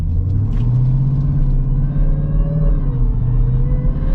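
A car drives on the road during brake pad bedding runs, giving a steady loud low engine and tyre rumble with a slight rise and fall in pitch and no talking.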